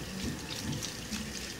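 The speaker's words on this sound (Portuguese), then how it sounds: "Vou jogar só um pouquinho de água" Water poured from a tap onto okra in a pan: a continuous, soft splashing and trickling stream, close and fairly quiet, steady throughout with no talking.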